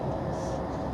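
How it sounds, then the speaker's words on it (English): A steady, loud low diesel drone from the generators in the middle section of a Class 231 FLIRT train, continuous rumble with a faint higher hiss over it. "Let's go have a walk through this middle bit of the train where the diesel generators are."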